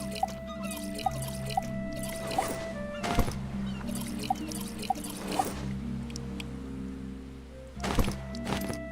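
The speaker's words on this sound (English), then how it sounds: "we're gonna need a little bit more water to fill up these bottles." Water sloshes and trickles with drips as bottles are filled in the survival game Stranded Deep, set against a steady ambient hum, with a few louder splashy bursts along the way.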